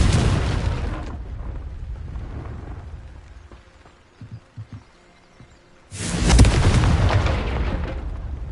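A Confringo fire spell from Hogwarts Legacy bursts in two loud, booming blasts, one at the start fading over about a second and a second heavy roaring explosion later that rumbles on, with quiet game ambience between.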